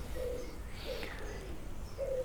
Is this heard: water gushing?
no